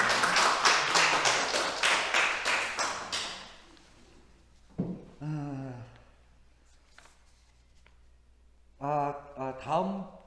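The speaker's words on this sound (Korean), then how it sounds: "감사 인사드리면서 박수" During a Korean church service, a congregation's dense burst of applause for a visiting priest fades after a few seconds, followed by someone speaking with pauses and some faint knocks.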